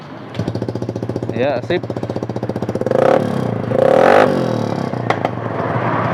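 A Honda Beat Pop ESP scooter with a run-down battery is cranked by its electric starter, then catches and idles with a rattling, chugging beat and two brief revs while people talk over it.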